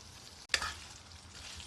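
Baby squid stir-fried in a hot pan with onion and sugar, a steady soft sizzle broken by a sharp burst of hiss as food is stirred or tossed, then settling back into a continuous frying crackle.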